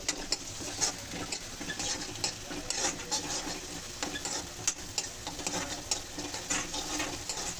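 Tomatoes frying in a pan for homemade pani puri give a soft, faint crackling sizzle with light intermittent stirring clicks, steady and unaccompanied by talk.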